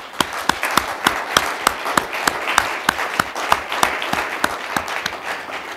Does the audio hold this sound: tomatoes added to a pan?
no